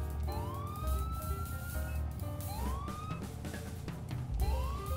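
A police car siren in Grand Theft Auto V wails in repeated rising sweeps over a steady engine rumble, loud and close, with no talking.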